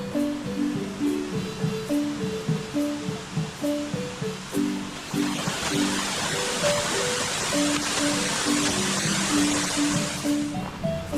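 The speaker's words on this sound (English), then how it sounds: "and a small but beautiful waterfall" A small waterfall in a nature reserve near Lake Atitlán, a steady rushing hiss that swells in midway and then drops away, heard beneath soft melodic music.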